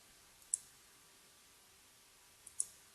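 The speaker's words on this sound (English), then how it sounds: "So right click on cap" A computer mouse gives two crisp, faint clicks about two seconds apart during CAD modeling work, each a quick double tap against a quiet room.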